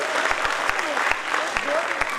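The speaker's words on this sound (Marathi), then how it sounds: "चला सर्वांनी एकदा जोरदार टाळ्या गडगडाट करू." Audience applause at a live stage performance, a dense steady clatter of many hands clapping together, fairly loud and continuous throughout with no talk over it.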